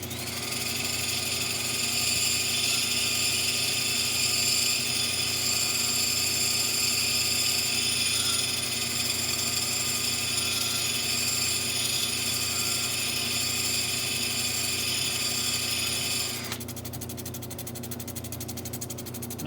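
A lapidary polishing machine grinds a round stone cabochon on a coarse wheel, a loud steady motor whine with a grinding hiss that shifts in tone near the end as the stone is trimmed; no one speaks.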